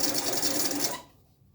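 A sewing machine stitches close to a seam edge in a rapid, buzzing run for about a second, then stops abruptly, leaving quiet. The sound is fairly near and faint overall.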